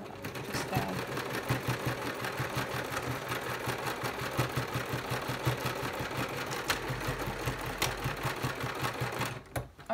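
A sewing machine sews a crochet project bag, its needle chattering in a fast, steady rhythm throughout, close and loud, with a brief stop at the end.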